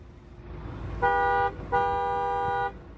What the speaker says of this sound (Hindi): 2 टोन हॉर्न है।